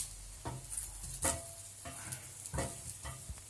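Cheese-and-chive stuffed mushrooms sizzling in a pan while being turned over, soft steady frying hiss broken by several short scraping clatters of a utensil against the pan, quiet and close.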